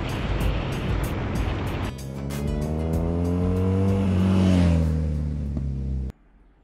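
BMW R nineT motorcycle engine running loud and close under wind rush, then revving up with rising and falling harmonic tones before cutting off abruptly near the end.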